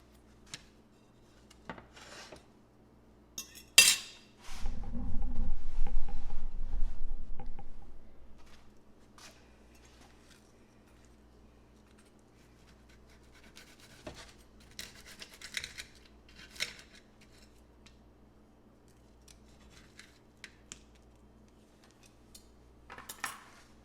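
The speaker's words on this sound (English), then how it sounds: "We usually cut it in triangles like so." A knife cuts green scallion pancake into triangles, giving sporadic crisp scraping and tapping cuts against a board with one longer, louder rasping cut near the start, close and otherwise quiet.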